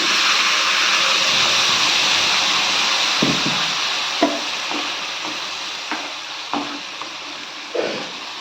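Ground garlic frying in hot oil for garlic chutney: a steady broadband sizzle fills the pan, with occasional soft clicks and spatters of stirring, close and even throughout.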